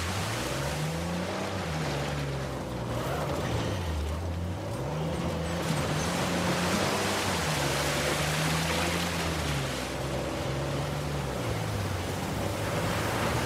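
Waterfall in the Uncharted 4 video game, a steady broadband roar of rushing water heard continuously, with a low droning tone weaving beneath it throughout.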